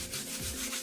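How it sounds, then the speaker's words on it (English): Fingers rub lightly across a watercolour painting to brush dried salt off the paper, making a steady, close, dry scratchy rasp that runs continuously for under a second without any speech. "Just rub your fingers lightly across the surface,"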